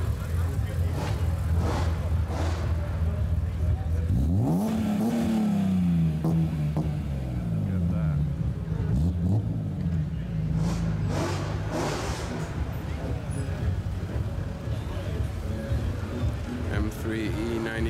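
An older-generation BMW car drives past on a Monaco street, its engine rising and falling as it approaches and passes amid steady street noise, with voices in the background.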